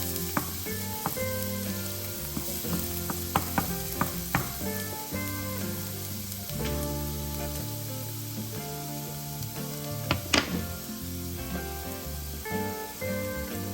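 Minced garlic sizzling steadily in olive oil in a frying pan, a dense continuous crackle with sharper pops and a few scraping stirs, close and alone.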